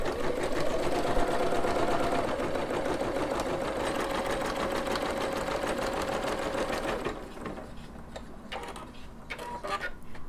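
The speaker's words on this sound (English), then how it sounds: "So our machine is all done embroidering" SINGER Legacy SE300 embroidery machine stitching a design: a fast, steady mechanical whirring hum that runs loud and continuous, then cuts off abruptly near the end leaving quieter handling noises.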